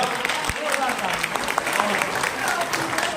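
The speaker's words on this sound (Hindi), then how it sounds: "निर्मल भाई के लिए ताली बजाइए भाई है ना।" Audience at a youth rally in New Delhi applauds continuously at moderate volume, with voices chattering over the clapping.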